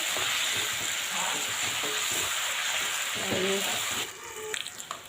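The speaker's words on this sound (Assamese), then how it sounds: "এয়া চাওক কি ধুনীয়াকৈ ফ্ৰাই হৈ আছে" Steady, loud sizzling of meat frying in a hot pan, with a few scrapes of stirring and brief clatter near the end.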